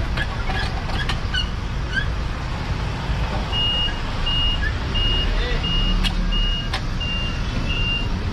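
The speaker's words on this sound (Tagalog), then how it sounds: "lalabas daw yung sasakyan na L300 doon sa garahe" An L300 van backing out of a garage sends out a steady series of evenly spaced reversing beeps, loud and close, over a rumbling engine and street noise.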